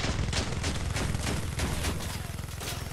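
A Crossout battleship build on six Goliath tracks takes heavy gunfire, a dense rapid rattle of impacts and shots in a steady fast rhythm that stays loud and close for three seconds, with no talking over it.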